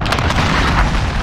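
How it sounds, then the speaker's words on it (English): Cruise missile explosion in the video game Call of Duty Modern Warfare, a single loud, dense boom that fills the short moment with rumbling blast noise. "Enemy cruise missile, take cover!"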